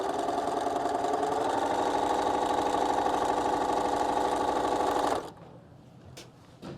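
A sewing machine runs steadily for about five seconds, stitching quilt pieces together for a nine patch quilt block, then stops abruptly, leaving quiet room tone with a couple of faint clicks.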